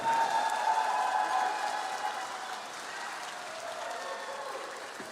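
A charity dinner crowd in Brisbane applauds a band after its performance. The clapping starts strong, then gradually thins and fades while a faint tone lingers underneath.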